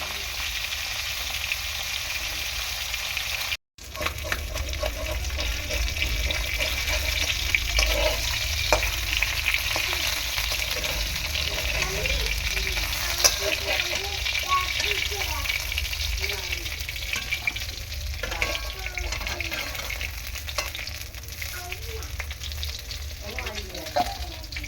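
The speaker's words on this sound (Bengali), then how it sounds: "সব কটা মাছ ভালো করে আমি ভেজে নেব প্রথমে" Bele fish fry in hot oil, giving a continuous dense sizzle and crackle with occasional spatula scrapes, broken by a brief dropout near the start and then steady at close range.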